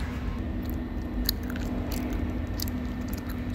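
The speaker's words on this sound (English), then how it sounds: "Stop chewing gum." A person chewing gum close to the microphone in a machine shop, steady wet smacking and squishing bites with a few sharper clicks over continuous workshop hum, no talk.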